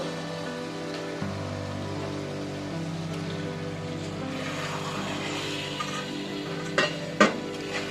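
Goat meat dropped into fried spices in a pan, setting off a steady sizzle with a low continuous hum beneath, followed by a couple of sharp stirring scrapes and knocks near the end; no talking.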